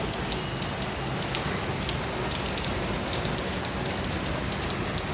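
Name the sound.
heavy rain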